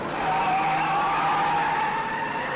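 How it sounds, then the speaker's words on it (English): Trucks skid and squeal their tires as they circle a building in the film Maximum Overdrive, a continuous, loud, wavering screech close by that lasts throughout, with no talking. "The trucks circle the building, trapping the unlucky folk within."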